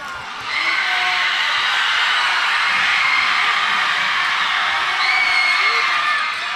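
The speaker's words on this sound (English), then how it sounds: "The crowd is amazing here in the Trojan Trench. It's a good one, hear them." Fans in a high school boys basketball gym roar and cheer in a sustained wash of crowd noise, with sneaker squeaks and whoops cutting through the din.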